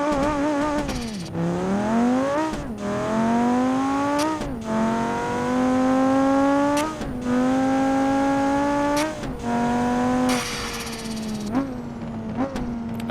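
A car engine in the BeamNG.drive video game, the Roadkill Projects blue BX, launched by dumping the clutch: loud, close revving that climbs through several gears with sharp shift breaks, heard alone.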